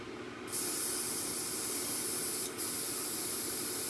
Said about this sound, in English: Get my airbrush cleaned out here.